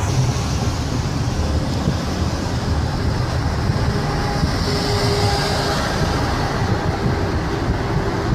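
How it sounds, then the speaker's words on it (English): A train rolls past on rail tracks at close range, a continuous loud rumble and rattle of wheels and wagons holding steady throughout, with no voices. "And there's the train right there."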